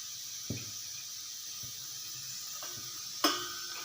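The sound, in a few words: groundnut oil heating in a frying pan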